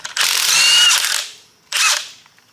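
Power tool, likely an impact wrench, backs out intake bolts on a junkyard 351 Windsor engine during teardown, in two loud, close bursts of whirring and rattling separated by a short pause.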